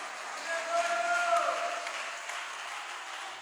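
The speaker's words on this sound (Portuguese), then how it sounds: "Quem recebe esta palavra pode bater palmas para Jesus." A church congregation applauds for Jesus, a soft, fairly distant wash of clapping and crowd noise lasting a few seconds.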